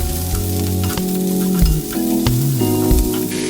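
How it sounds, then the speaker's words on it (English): Chopped onion stir-fried on medium-high heat gives a steady, close sizzle with irregular scraping and stirring, while tonal background music runs underneath throughout. "You want to then stir fry your onion for about 45 seconds on medium-high heat."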